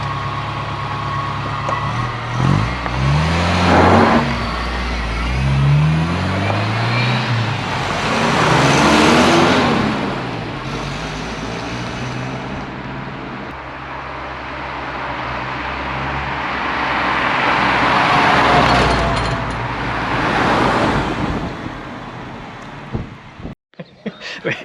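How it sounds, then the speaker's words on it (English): A Volvo 240 does a tyre burnout, its engine roaring in long revving surges that swell and fade over about twenty seconds, with broad hissing tyre noise and a final sharp clatter at the end. "That was a tasty burnout."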